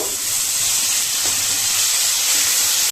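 Tomato, ginger and green chili paste sizzles loudly in hot oil tempering as it hits the pan for a vegetarian paneer dish, a steady close frying hiss lasting throughout with no talk.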